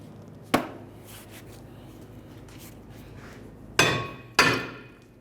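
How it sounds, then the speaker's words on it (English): A mallet strikes a Hyundai Sonata rear brake rotor to free it, giving one sharp metallic bang, then after a pause two more close together, each ringing briefly in a quiet garage. "hit it with a mallet, and keep rotating it, doing the same thing until it comes free"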